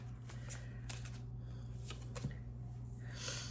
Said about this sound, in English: So let me just get a few cards here.